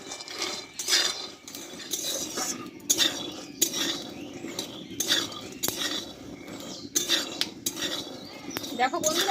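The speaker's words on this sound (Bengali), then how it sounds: "বাদামটা কিন্তু আমার ভাজা হয়ে এসছে একটা চটপটি দেখো আওয়াজ দিচ্ছে" Peanuts dry-roasting in a pan, scraped and stirred with a utensil in repeated clinking, rattling bursts over faint crackling, close and moderately loud, with no talk.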